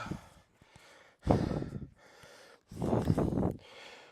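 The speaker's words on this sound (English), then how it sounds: "Let me gather my breathing." A man recovering from 329 unbroken burpees breathes heavily, with loud, close gasping breaths coming in uneven bursts and quieter pauses between them.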